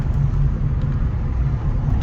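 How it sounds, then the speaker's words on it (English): A 2018 Honda Civic Si with a 1.5L turbo engine and brand new fuel injectors drives along, its steady low engine rumble and road noise loud and continuous with no talking. "Car drives good."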